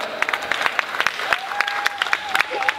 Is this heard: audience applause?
yes